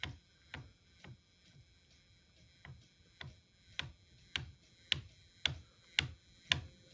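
A model Rapido 44-tonner truck's drivetrain clicks steadily, with sharp, close ticks repeating about twice a second that grow slightly louder and more regular toward the end.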